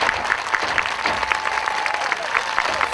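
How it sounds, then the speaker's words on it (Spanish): A crowd at a concert claps fast palmas, dense rapid hand clapping filling the whole stretch, with crowd noise and faint voices underneath. "Una palma rápida para Mario."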